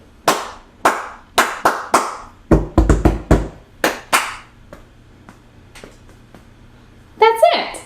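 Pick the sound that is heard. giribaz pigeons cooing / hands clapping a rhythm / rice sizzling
hands clapping a rhythm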